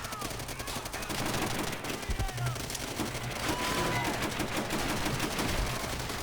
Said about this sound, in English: let me gun you down with my shotty